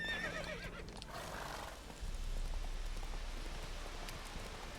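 Horse neighing and whinnying in The Witcher 3: Wild Hunt, a loud whinny at the start followed by continuous rain-like ambience and faint hoof clip-clops.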